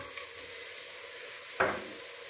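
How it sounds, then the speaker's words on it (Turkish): Chickpeas go into a pot of vegetable soup with lentils and noodles: a single brief splash and clatter midway, over quiet kitchen background. "Şimdi nohudumuzu koyuyorum."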